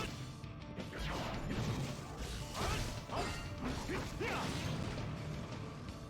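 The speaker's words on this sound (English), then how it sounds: "If we smashed him through a roof, you'd think it'd do more damage" A character is smashed through a roof in the video game Dissidia 012, giving a loud, continuous crashing and creaking clatter of impacts and grinding debris that stays dense and close throughout.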